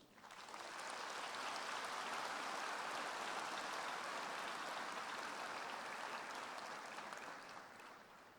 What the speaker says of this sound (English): I now wish to request that you give yourselves, as well as your families, lecturers, and supervisors, a resounding round of applause for your achievements.